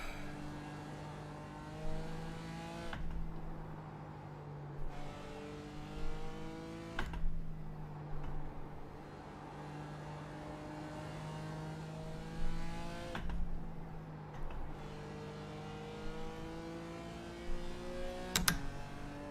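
BMW race car engine in the iRacing sim at Suzuka, droning steadily with repeated rising revs and sharp gear-shift drops every few seconds, the harmonic pitch climbing and falling as the car accelerates and brakes through corners.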